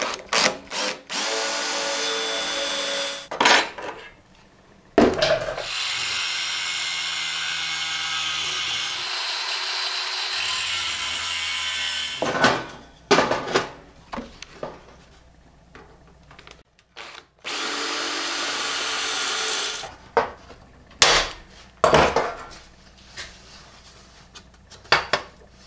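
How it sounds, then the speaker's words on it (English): Power drill boring holes in small metal parts for a homemade hot tent stove, in several long whining bursts separated by pauses, with clicks and clanks of handling in between. "it's going to be hard to hold the little tiny piece like that and drill the hole"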